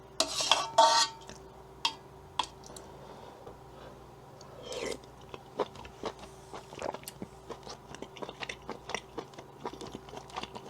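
Chopsticks clink and scrape against a bowl while stirring glass noodles and beef in hot galbitang soup, a series of small, close, light taps and knocks with quiet stirring between them.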